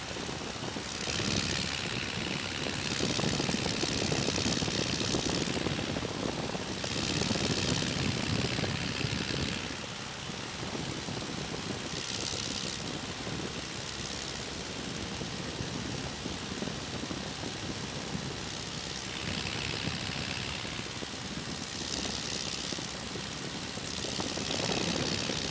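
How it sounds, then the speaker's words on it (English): A de Havilland Tiger Moth open-cockpit biplane in flight near White Waltham, its propeller engine droning steadily and loudly up close, with a strong wind rush that swells and fades over about half a minute, and no voices. "What a lovely day to fly in an open cockpit airplane."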